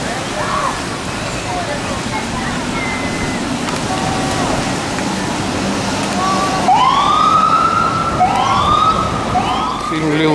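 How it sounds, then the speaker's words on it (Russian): An ambulance siren wails through Honolulu on Oahu at nightfall, its rising and falling sweeps swelling up in the second half over a steady roar of city and surf noise. "Но в данном случае скорая помощь идет."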